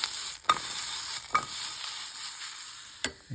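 Green zucchinis cook lightly in a pan with a soft, even sizzle. Three distinct stirring scrapes or taps come at intervals, and no one speaks.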